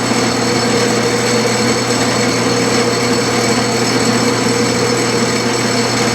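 A lathe spindle turns a lap charged with lapping compound at about 300 RPM, a steady, loud, continuous mechanical hum and whir with no break or change in pace.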